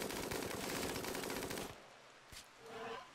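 Colonists in the video game RimWorld fire their guns in a dense, rapid burst of automatic gunfire lasting about a second and a half, followed by a lone shot and quieter game sounds.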